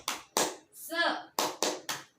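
A rhythmic clapping chant demonstrated by a young teacher for schoolchildren, crisp close handclaps in a short pattern around a single sung word, two claps, the chanted word, then three more claps.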